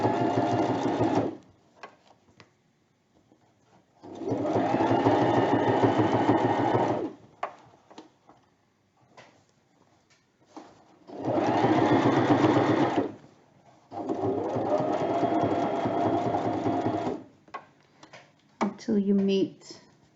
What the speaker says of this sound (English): I'm ready to sew, needle in, back tack, pins out as you go